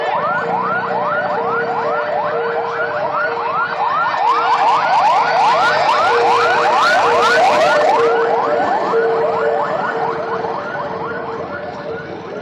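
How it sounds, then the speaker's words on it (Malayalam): An ambulance siren wails, cycling rapidly up and down, loud and steady for several seconds before easing slightly, with no talking, on a waterlogged, blocked stretch of the NH 66 highway at Payyoli. "അതിനിടയിൽ ഒരു ആംബുലൻസ് വരുന്നുണ്ട്"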